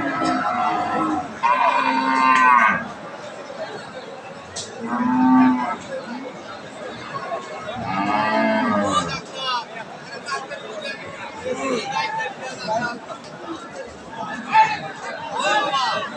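Cattle, Friesian and crossbred cows, mooing loudly several times at a busy traditional cattle market, long low bellows rising over the crowd's chatter and nearby voices.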